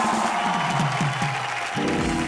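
A television studio audience claps loudly after a live song and dance performance on an entertainment show, a steady wash of applause with a voice and tonal music-like sounds mixed in underneath.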